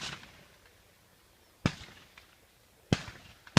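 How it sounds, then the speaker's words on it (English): Distant rifle shots from a military small-arms range at Camp Perry, where the Marine Corps Small Arms Firing School is training, cracking out singly at irregular intervals: three clear reports over quiet outdoor ambience, with faint earlier shots. "Marine Corps Small Arms Firing School is still finishing up over here. That's the shooting you hear."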